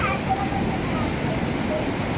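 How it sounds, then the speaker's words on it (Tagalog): Strong waves roll in as a continuous broadband rush of water, loud and close, with a voice speaking over part of it. "Malakas ang alon."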